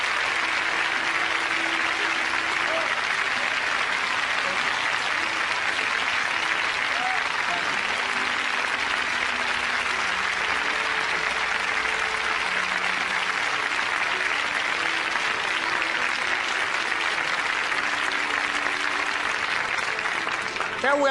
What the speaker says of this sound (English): Let's give Mrs. Rosa Parks a round of applause